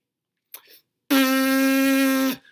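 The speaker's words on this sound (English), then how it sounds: "And our free buzz sounds like this" A brief breathy puff, then a loud, steady free lip buzz without a mouthpiece holds one pitch for about a second before cutting off, close and alone.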